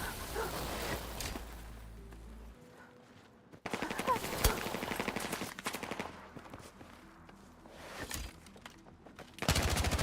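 Rapid bursts of automatic gunfire crackle in Battlefield 6 battle royale combat, loud and close, with short pauses between volleys.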